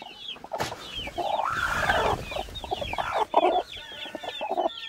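A prolific laying hen clucks inside an old bamboo chicken coop, giving repeated close, busy clucks and squawks with small rustles around it.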